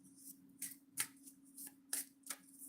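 A tarot-style deck of cards is shuffled close by, several quick riffling bursts in an uneven rhythm against a quiet background hum.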